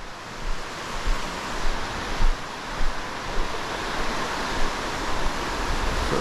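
Rushing river water on the Pratt River near its meeting with the Snoqualmie, a steady broadband wash with soft surging swells, close and continuous, no voices.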